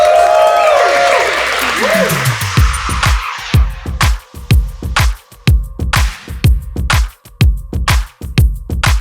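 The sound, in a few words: audience applause at film screening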